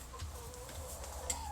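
Chickens in a small backyard coop at evening give a few soft, faint clucks over a low background hum, brief and quiet.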